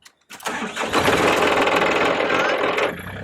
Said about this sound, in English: Start the machine, preheat us to the left, and then turn to the right to operate.